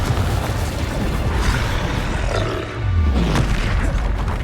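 Fiery Confringo spell blasts in Hogwarts Legacy, a loud continuous roaring rumble with booming bursts layered over dense battle noise, sustained throughout without pause.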